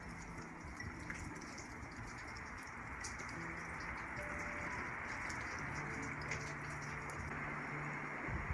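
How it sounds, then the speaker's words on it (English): Steady rain falling outdoors in cold Nevada weather around a bus-to-RV conversion site, a constant broadband patter with no clear individual drops and no voices. "it's been raining here for like 5 days"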